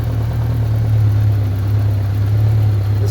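A Honda Goldwing motorcycle idles close by with an exhaust leak and carburetors not yet balanced, giving a steady low throbbing rumble with a faint ticking pulse, continuous and unbroken.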